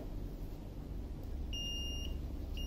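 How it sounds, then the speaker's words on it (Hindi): The timer alarm on a heat press machine used for printing personalized masks gives short high electronic beeps that start partway in and repeat, sounding over a low steady machine hum. "टाइम खत्म होने के बाद में मशीन अपने को अलार्म देगी कि आपका टाइम खत्म हो गया है"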